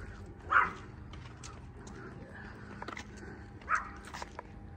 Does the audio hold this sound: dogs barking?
yes